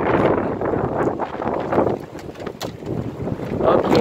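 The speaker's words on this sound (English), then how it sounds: "It's very, very, very heavy wind out here." Strong wind gusting outdoors on a sunny day, roaring and buffeting the microphone in continuous surging waves, loud and close, with no clear talking.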